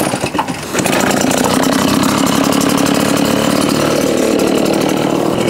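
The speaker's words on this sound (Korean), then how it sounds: "자, 일단 제노아 EBZ-8550 모델 먼저 시동을 걸겠습니다." A few brief sputters, then a Zenoah EBZ-8550 backpack leaf blower engine catches and roars at a loud, constant high-pitched drone, very close.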